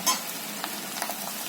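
Garlic chili thecha and turmeric frying in a pan for a bajra bhakri dish, a brief close sizzle with a soft scrape of stirring and small ticks of a utensil, no voices.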